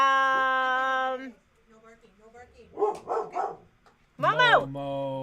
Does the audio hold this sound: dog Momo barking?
yes